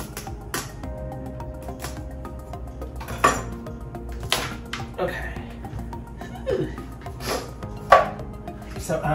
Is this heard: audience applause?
no